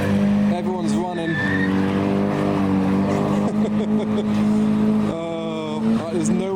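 A car at a car meet revs hard and accelerates through second gear, its loud engine note rising in pitch with tyre squeal beneath, and people talk over it.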